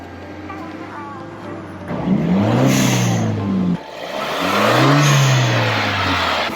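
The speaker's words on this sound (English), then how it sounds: "Now we're ready to start up the car." A Hyundai Genesis Coupe engine, fitted with one-step-colder NGK spark plugs, turns over and catches, rising in two surges of revving that settle into a steady idle hum.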